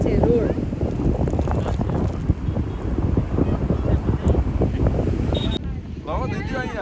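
Strong sea wind at Madhavpur beach batters the microphone in a loud, continuous roar that barely lets up, with a brief voice audible near the end.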